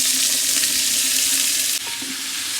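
Onions frying in coconut oil in a large pot while chicken biryani is being made, giving a loud, steady sizzle with stirring noises. The frying briefly drops in level and then carries on, with no voices.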